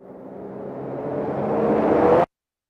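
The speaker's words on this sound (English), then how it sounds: "I always use that one. I love that rise." A synthetic riser sound effect from the "Gucci Gang" beat swells steadily in pitch and loudness for about two seconds, then cuts off abruptly into silence.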